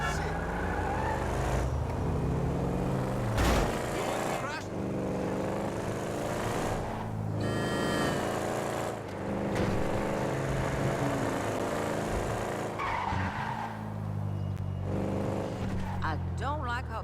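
A car drives in GTA V, its engine revving and shifting loudly with rising and falling tones and sharp gear changes, while a person talks over the gameplay.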